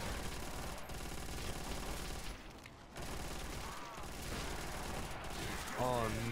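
Rifle gunfire in a Call of Duty custom zombies map, a KR98K-type bolt-action, cracking over dense game music and effects with a short lull midway and a tonal chime near the end.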